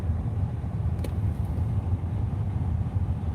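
A Jeep engine runs steadily after recent water pump and thermostat outlet repairs, a continuous low rumble that holds close and even throughout with no voices.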